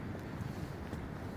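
Low, steady wind rumble against the microphone in a park on a cold, dull day, faint and continuous, with no voices.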